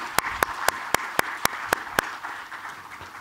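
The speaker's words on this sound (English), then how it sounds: "give a round of applause to Professor Panet" A single person's sharp handclaps at a lecture session, eight evenly spaced, loud and close, then fading to room noise. No crowd applause is audible.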